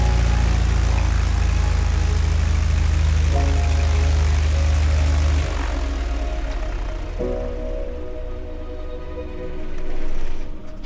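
A modified propeller plane in flight, its engine drone loud and steady throughout, dipping slightly midway and swelling again near the end.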